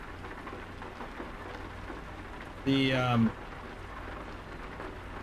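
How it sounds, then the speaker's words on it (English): Steady rain drums on a truck cab during a storm in the Euro Truck Simulator 2 video game, a dense hiss throughout with a brief voice cutting in midway. "You can hear that rain banging down on the cab of the truck."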